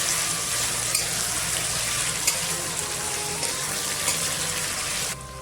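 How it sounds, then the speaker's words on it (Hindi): Mutton fat sizzles and crackles steadily in a hot pan, a close, continuous frying hiss with occasional small pops, cutting off abruptly just before the end. "अभी मैं मटन सर्बी को 5 मिनट पकाएंगे।"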